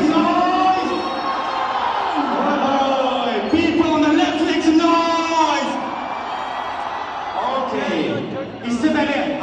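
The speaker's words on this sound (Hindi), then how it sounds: "भीड़ बहुत गंदी।" A dense crowd packs a mall promotion event for the film Carry On Jatta 3 with its lead actors, a loud, continuous roar of voices with shouts and cheers rising throughout, and nearby talk mixed in.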